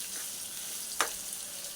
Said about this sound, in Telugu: ఇలా బాగా నూనె బాగా కలుపుకోవాలి.